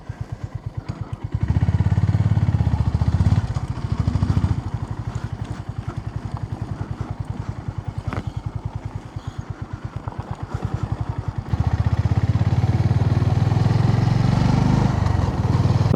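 A motorcycle engine drones along a road trip route toward Tulsishyam through Gir jungle, a close, throbbing running note that swells louder near the start and again later, with no talk.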